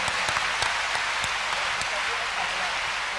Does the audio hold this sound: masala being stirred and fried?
no